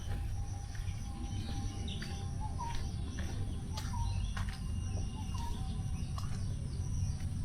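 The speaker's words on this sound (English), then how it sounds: "the distant songs of birds" Faint, distant birds chirp in scattered short calls over a steady outdoor bed of insect buzzing in a natural setting.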